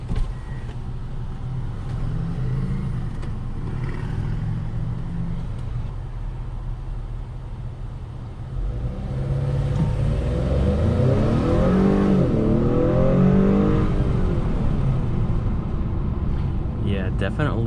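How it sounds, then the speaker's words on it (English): A 2021 Acura TLX in sport mode accelerates hard from a launch, engine note rising steadily over a constant road and wind roar, heard from inside the cabin with a voice talking at times. "I'm gonna go ahead and do a quick acceleration right here."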